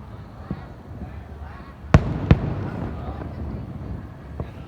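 Fireworks going off for the New Year 2024 celebration: two sharp, loud bangs close together stand out against a steady crackling, rumbling backdrop, with a fainter pop later and background voices throughout.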